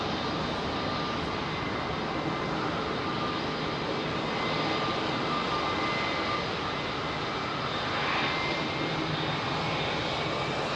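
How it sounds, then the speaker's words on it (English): A Boeing 787 jet airliner departing London Heathrow, a loud, steady engine roar and broadband rush that fills the whole stretch with little change, heard close without voices. "Good mate of ours, Carl, who's bringing this 787 back from San Fran to London Heathrow"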